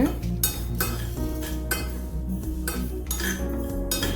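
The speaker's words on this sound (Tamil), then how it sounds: "கடுகு வெந்தயம் நல்லா பொரியணுங்க" Mustard seeds and fenugreek frying in oil for mango pickle, steady close sizzle under a run of sharp metallic clinks and scrapes of a spoon stirring against the pan.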